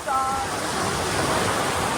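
Sea waves rolling and washing onto the shore at a calm sea, a steady close broadband surf wash with wind buffeting the microphone throughout.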